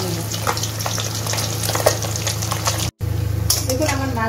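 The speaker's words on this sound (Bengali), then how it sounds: "তখন আমি লাল লাল করে মাছটা ভেজে নেব" Kajoli fish sizzling loudly in hot oil in a village kitchen pan, a continuous crackling fry with small pops, briefly cut off by a short silent gap before resuming.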